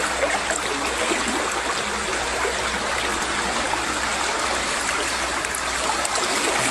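Fast floodwater from a river in Baling, Kedah rushes past in a dense, unbroken roar, loud and close, with no pauses.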